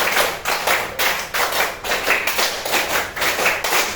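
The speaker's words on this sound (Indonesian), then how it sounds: "Tepuk 5 3 kali" Group clapping in a classroom, a teaching session, in a rhythmic chant pattern of quick claps repeated in bursts, roughly eight clusters over four seconds, loud and close with no talking.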